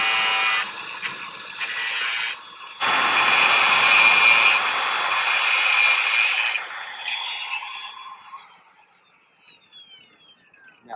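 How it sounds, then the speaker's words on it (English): An abrasive cutoff wheel grinds through a GMRS antenna element, a loud, harsh, high-pitched shriek with brief breaks and restarts, then winding down to a fading whine as the tool spins to a stop. "we're going to do this with a cutoff wheel"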